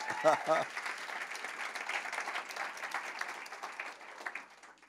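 Audience applause at a church celebration marking an eighth anniversary, dense clapping that holds steady and then thins out toward the end, with a brief voice heard at the start.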